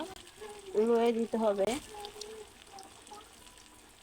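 Bengali boal fish kofta balls fry gently in hot oil over low heat, a soft, steady sizzle heard mostly beneath a woman's speech, then continuing faintly and evenly once she stops.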